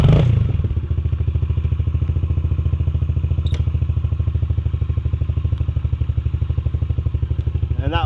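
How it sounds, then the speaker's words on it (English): A 2014 Yamaha TTR110 dirt bike sits idling close by, its small single-cylinder engine putting out a steady, fast, even putter with light mechanical clatter throughout. "So we'll let this idle for a minute or two, get the oil warm"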